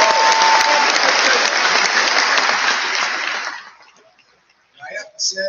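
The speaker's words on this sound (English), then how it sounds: "A round of applause for our graduates." Audience applause for high school graduates at a graduation ceremony, loud sustained clapping from a large crowd that fades out after about three and a half seconds, followed by brief speech.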